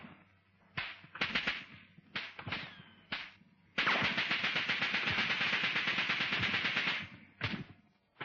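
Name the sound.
enemy gunfire in WWII training film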